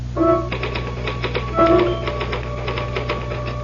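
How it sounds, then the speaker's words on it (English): Typewriter keys clack in quick irregular bursts with a couple of carriage bell-like tones, close and clear over a steady low hum, as a radio drama sound effect. "Can I use the typewriter for a moment?"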